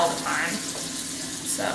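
Tap water runs steadily into a sink while dishes are washed by hand, producing a continuous close splashing rush with small clinks and shifts in the flow.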